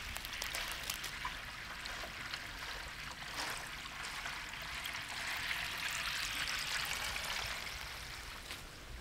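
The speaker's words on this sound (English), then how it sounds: "As the water fills up the penstock, you can hear it rushing by here at this point." Water rushing steadily through a 2-inch micro hydro penstock pipe running down to a turbine, a continuous close hiss and gurgle that holds an even level throughout, with no voices.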